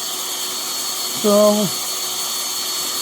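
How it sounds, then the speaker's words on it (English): A power drill boring a hole while installing a Vevor boom and hoist gives a short, steady, rising whine of about half a second, close and clear over a low background hum, with a brief word spoken just before. "look at how well that's drilling"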